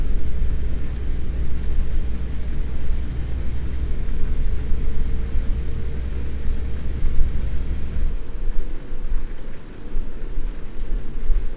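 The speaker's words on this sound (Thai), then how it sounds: "ฝนตกฟ้าร้อง" Heavy rain with deep rolling thunder in the truck-driving game Euro Truck Simulator 2, on a convoy drive through Germany from Cologne toward Osnabrück; a steady, loud downpour and low rumble fill the whole stretch, thinning slightly near the end.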